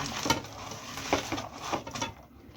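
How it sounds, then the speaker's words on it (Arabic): Chicken, potatoes and onions are mixed and squeezed together by hand in a dish, giving close, soft squelching and rubbing noises with a few louder wet slaps, no talking. "هدعك كل الكلام ده كده مع بعضه عشان ايه البصل ينزل العصاره بتاعته"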